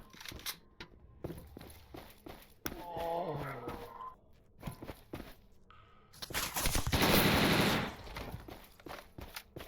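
Gunfire from the STALKER video game (Old World addon mod), with sharp shots and bursts scattered through the stretch, a louder dense burst of firing near the end, and footstep-like sounds between.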